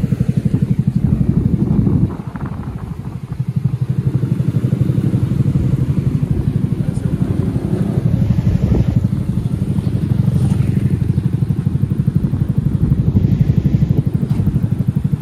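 A new Yamaha Mio motorcycle being ridden, its engine droning steadily and loud with a continuous low rumble and road noise throughout, no talk over it.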